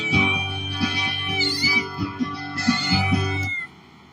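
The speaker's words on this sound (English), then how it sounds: "Cat in distress." A cat meows in distress, close and loud, in a few drawn-out harmonic cries lasting over three seconds before falling quiet.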